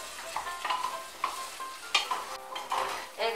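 Mung dal frying with vegetables in a pan, a soft sizzle with intermittent stirring scrapes and clatters at an even, close level, no voices.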